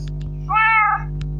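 A single mid-length cat meow from Minecraft rings out clearly over a steady low game hum, with faint clicks before and after it.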